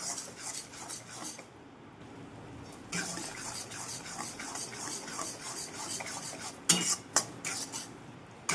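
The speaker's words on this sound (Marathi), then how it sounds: "सतत हलवत आपण रवा भाजून घेतलेला आहे तरी दोन मिनटं अजून भाजणार आहे" Semolina roasting in a pan on a small gas burner, stirred steadily with a utensil, giving a continuous close scraping and rubbing with occasional sharper metallic clinks against the pan, no talk.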